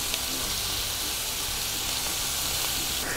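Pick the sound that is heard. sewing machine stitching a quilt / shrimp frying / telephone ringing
shrimp frying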